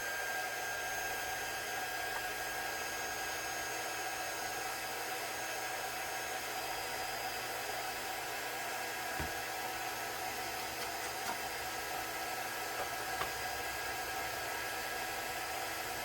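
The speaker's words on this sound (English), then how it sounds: "I guess I'll get my heat gun going" A heat gun blows a steady, even rush of hot air over a paper pumpkin craft for about sixteen seconds, a constant whoosh at moderate volume with no talk.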